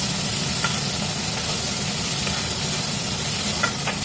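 Onion, ginger and garlic frying in hot oil for dal palak, giving a steady close sizzle and hiss with a few faint clinks of stirring.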